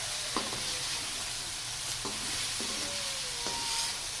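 Okra and onions frying on a medium flame for a bhindi gosht, with a steady hiss of sizzling oil and a few occasional spoon scrapes and taps.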